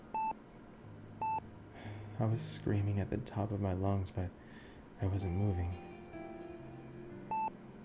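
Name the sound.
beeping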